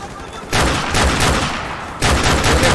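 Dense, loud bursts of automatic gunfire from Call of Duty: Modern Warfare with an M4 rifle, fired in sustained runs with a brief lull before a second burst resumes.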